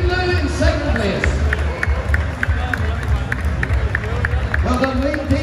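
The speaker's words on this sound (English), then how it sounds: "Round of applause, please, for Dean and Lou in second place." Crowd at a London tattoo show prize giving clapping for the second-place winners, a loud, rhythmic burst of applause with cheering over a noisy, busy hall.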